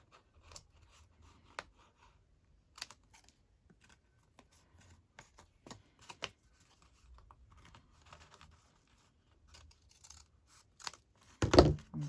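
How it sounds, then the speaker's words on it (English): Scissors snip paper ephemera during a collage project, giving scattered short, crisp cuts at close range in a quiet room, ending with a louder rustle. "Just got to snip that bit off."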